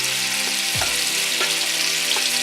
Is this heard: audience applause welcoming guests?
no